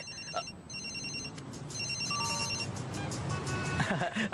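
A cartoon cellphone ringtone plays a repeating pattern of bright electronic beeps, with faint traffic rumble and some background voices underneath.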